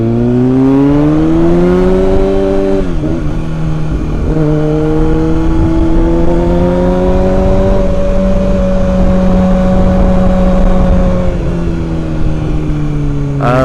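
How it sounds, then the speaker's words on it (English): A Kawasaki ZX6R motorcycle's loud stock exhaust drones steadily up close, its pitch rising and dipping with small throttle changes and no voices over it. "the exhaust on this bike is so loud, it's like ridiculous"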